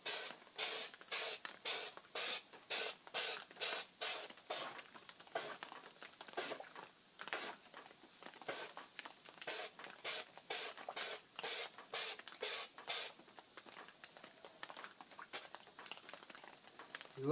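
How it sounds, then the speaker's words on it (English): A powder coater sprays powder onto cast bullets in a series of short, rhythmic hissing puffs, repeated steadily over a continuous faint background hiss. "You get your powder coater."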